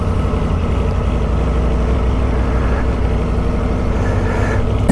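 A 2021 Aprilia Tuono motorcycle pulls away on the road, its engine a loud, steady rumble mixed with wind roar, holding an even level without clear revving throughout.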